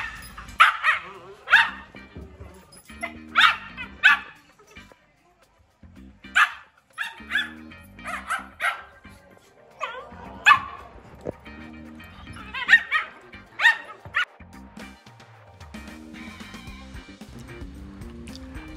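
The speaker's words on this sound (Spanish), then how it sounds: "podremos ver la interacción de dos cachorros durante el juego utilizando ladridos" Two whippet puppies bark while playing, sharp high yips and barks coming in irregular bursts, close and loud, with short pauses between volleys and quieter scuffling beneath.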